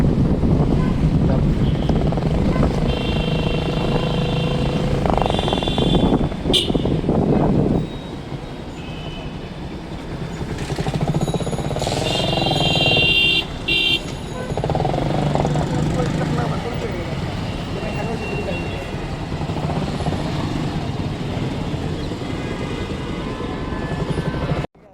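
Motorbike ride along a city road in Dhaka from Gulshan toward Kuril and 300 Feet, with steady engine drone and heavy wind buffeting throughout, passing traffic and a voice talking over it.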